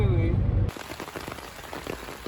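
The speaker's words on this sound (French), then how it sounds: "il y a un orage, il pleut. Et il y a le bruit de l'eau sur le toit" Heavy rain drums steadily on a roof during a thunderstorm, a dense patter of drops heard from indoors after a brief louder rumble at the start.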